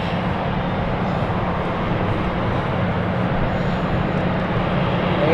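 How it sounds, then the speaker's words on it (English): An Airbus A220 airliner at London City airport, its engine roar a steady, loud broadband rumble that holds evenly throughout with no talk over it. "There is a beautiful A220."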